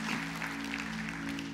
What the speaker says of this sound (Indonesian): Berikan tepuk tangan yang meriah untuk Tuhan